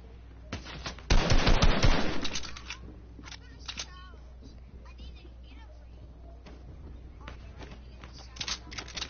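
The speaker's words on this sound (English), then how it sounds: "Oh, somebody's shooting me." Burst of rapid automatic gunfire aimed at the player in a video game, loud for about a second, then quieter scattered shots and clicks with faint voices.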